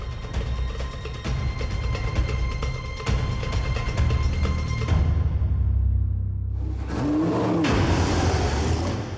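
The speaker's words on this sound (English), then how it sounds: "given one last chance to drive the Shannons Supercar Showdown V8" A V8 Supercar race car engine roars hard and close under acceleration, holding a loud, steady drone before cutting out abruptly for a moment, then coming back with rising revs.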